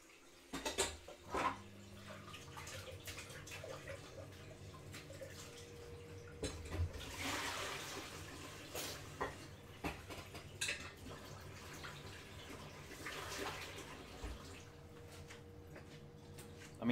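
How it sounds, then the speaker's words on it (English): A bowl is washed in a kitchen sink with running tap water, faint splashing and clinking, a low continuous wash with occasional knocks. "let's wash the bowl."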